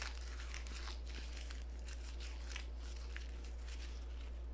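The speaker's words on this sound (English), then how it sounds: "Let's say I have a confidential piece of paper. What I do is I will ball it up." A sheet of paper is crumpled into a ball by hand, giving a steady close crinkling and crackling over a constant low hum, with no one talking.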